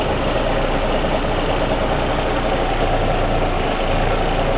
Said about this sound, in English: So you hear a little shudder, and that is actually the PTO engaging the truck